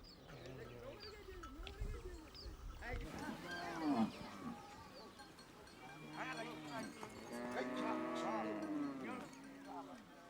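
Cattle in a Maasai village moo repeatedly, with several long, drawn-out calls that overlap at moderate distance against a quiet outdoor background.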